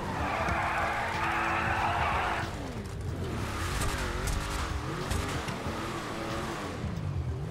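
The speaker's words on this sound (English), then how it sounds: "Let's burn these tires." In GTA 5, a Porsche burns out with a sustained high tire screech over a revving engine, followed by wavering engine tones and further squeals as the car pulls away.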